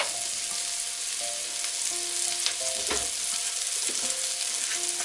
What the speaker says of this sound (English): I am going to add the white part of it. So my butter is already starting to burn.